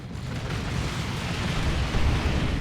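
Heavy, sustained booming blasts of plasma cannon fire in the real-time strategy game Warhammer 40,000: Dawn of War 2, a dense, loud, rumbling barrage of explosions with no gaps, with no voices over it.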